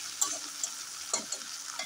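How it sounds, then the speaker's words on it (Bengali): Potatoes frying with salt and turmeric hiss steadily in a pan as a spatula stirs them, with a few soft scrapes and no talking. "ভালোভাবে একটু নেড়ে চেড়ে দেবো"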